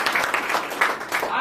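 An audience claps at a business marketing meeting in Balotra, Rajasthan, a dense, fairly loud burst of applause that carries steadily through the short moment.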